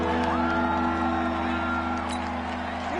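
Stadium crowd roar in a football video game match, a steady loud wash of cheering and whooping that fills the whole stretch, with a commentator talking over it.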